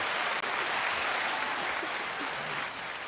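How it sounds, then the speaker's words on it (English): Dense crowd applause, a broad continuous roar of many hands clapping at once, loud and sustained throughout. "They deserve some applause because so many of them came"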